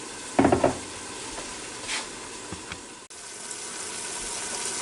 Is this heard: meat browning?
yes